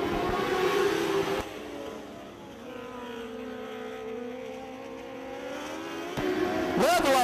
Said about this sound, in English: Carl Lovelace in the 7X holding a good, consistent line around Spring City Raceway.